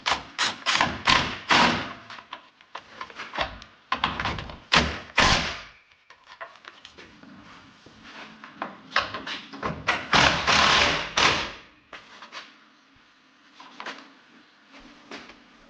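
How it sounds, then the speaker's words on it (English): A 3/8-inch impact gun works on fasteners of a deer-damaged Honda Accord, near and loud, firing in repeated short bursts of hammering with brief pauses between them and no talk. "The old trusty 3/8 gun out."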